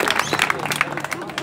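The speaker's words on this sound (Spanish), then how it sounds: "¡Un aplauso, cabro!" Crowd at a Chilean freestyle rap battle clapping and cheering between rounds, a dense wash of applause with shouts running under a host's voice.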